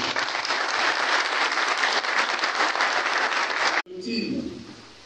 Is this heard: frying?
no